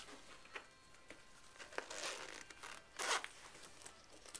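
A zipper is pulled open on a purple bag holding a Cuttlebug die-cutting machine, a few close, quick zip strokes with light fabric rustle between them.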